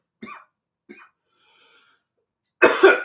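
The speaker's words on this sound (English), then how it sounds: "And I'm coughing." A short burst of harsh coughing near the end, after a couple of soft breaths or murmurs and near silence.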